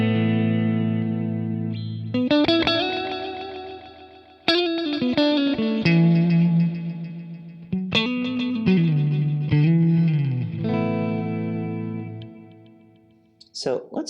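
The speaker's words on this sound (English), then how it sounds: "you can hear it's taking the delay time you set and it's varying it a little bit for the two delays" An electric guitar through a Lekato TANK-G modeler's dual delay plays sustained notes and bends, each phrase trailing into repeating delayed echoes, slightly varied in timing, that ring out and fade.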